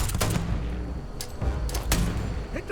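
A grenade going off in the Starfield game, heavy booming blasts and rumbling thuds with a few sharp cracks, loud and close amid continuing combat noise.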